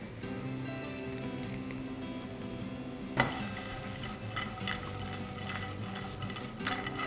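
Curry leaves tossed into a pan with frying brinjal, salt, chili powder and turmeric, a steady sizzle with stirring scrapes and a sharp utensil clack partway through, close and continuous with no voices.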